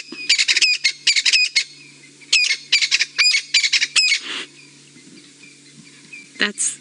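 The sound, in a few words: crested francolins calling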